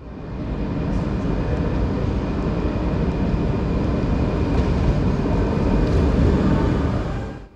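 A České dráhy class 680 Pendolino train arrives from the depot, heard as a steady, loud rumbling roar of rolling stock that swells slightly and fades at the end, with no voices over it.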